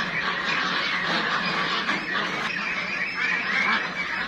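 Meat ducks raised for fattening quack and squawk continuously while eating feed, a dense, steady flock chorus close by with no talking.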